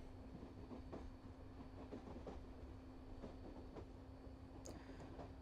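Night train pulling out of a station in Euro Train Simulator, a steady rolling rumble with a constant hum and soft rhythmic clickety-clack of wheels over rail joints, quiet and even, with a brief high squeal near the end.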